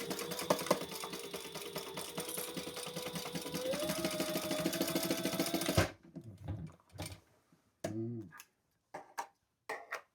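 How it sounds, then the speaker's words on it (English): Electric sewing machine running a fast, continuous buzzing stitch along seams of an outdoor footstool cushion for about six seconds, then stopping; brief handling rustles and a short voice follow in quieter gaps. "Let's sew those two seams."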